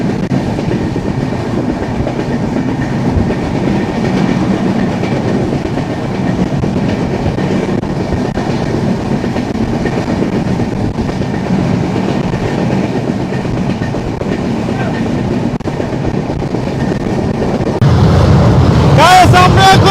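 Panchagarh Express train running on rails near the Jamuna Bridge in light rain, a steady loud rumble and rattle heard from inside the carriage, growing louder near the end.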